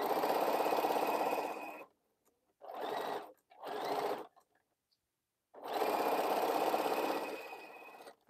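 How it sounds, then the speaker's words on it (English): A sewing machine stitches a quilt block in four bursts, a long run, two short runs and another long run, with a rapid mechanical whir and brief silences between; close and moderately loud, with no talking. "I'm just going to sew this one to get my piece off."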